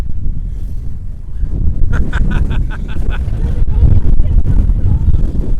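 Strong wind at the seaside village of Southerness, Scotland, buffets the microphone with loud, low rumbling gusts throughout, while a few brief tones and faint voices are partly buried beneath it.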